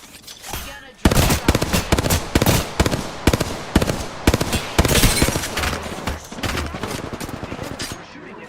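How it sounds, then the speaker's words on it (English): Rapid bursts of automatic gunfire from a battle royale shooter game crackle loudly and nearly continuously, with dense overlapping shots and brief pauses throughout. "They're shooting at me."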